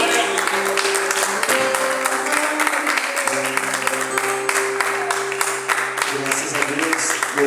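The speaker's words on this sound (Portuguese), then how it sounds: "Só as palmas que louvam o nome do Senhor." A church congregation claps during a Portuguese-language prayer service, with steady, loud applause mixed with sustained musical tones and voices.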